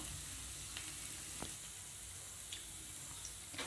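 Ragi (finger millet) adai flatbread with drumstick leaves cooking on a hot pan over low heat, giving a steady quiet sizzle throughout with a few faint scrapes or taps.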